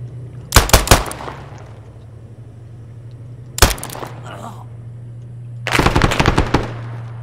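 AK rifle fire in a video game arrives in three sharp, loud bursts of rapid shots separated by pauses, over a steady low hum.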